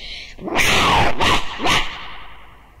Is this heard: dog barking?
yes